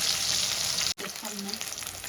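Catla fish pieces sizzle loudly in hot oil. The frying drops out for an instant, then comes straight back with faint stirring clatter underneath.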